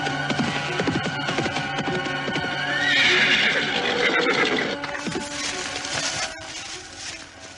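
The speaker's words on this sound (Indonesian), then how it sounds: "dari kejauhan terdengar derap kuda mendekat" Hoofbeats of horses approaching from a distance, mixed with neighing and whinnying, form a dense sound effect in an Indonesian audio drama set in a bamboo forest, building in loudness midway before easing off.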